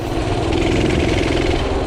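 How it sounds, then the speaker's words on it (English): A revived minibike engine runs steadily at close range with a buzzy mid-pitched drone, a loose exhaust heat shield adding a constant metallic rattle over the beat. "Definitely a little rattly. I think that's like the heat shield on the exhaust."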